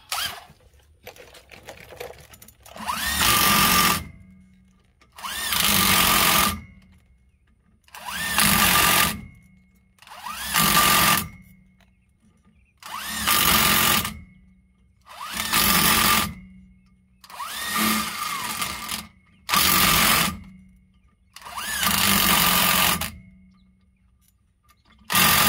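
Impact wrench working on the rear brakes of a 2012 Ford F-350 dually, eight loud bursts of rattling hammering, each lasting one to two seconds, separated by short quiet pauses, no talking.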